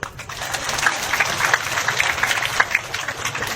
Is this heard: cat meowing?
no